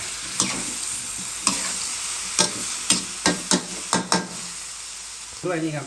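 Eggplant and pork belly are stir-fried with soybean paste in a hot pan, with loud, rhythmic spatula scrapes over a constant sizzle and a brief voice near the end.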